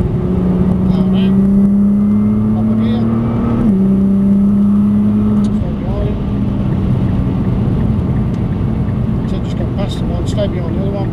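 A Nissan GT-R engine pulls hard on the Prestwold Hall track, a loud steady drone that climbs in pitch, drops briefly at a gear change, then pulls on while an instructor talks over it from inside the car.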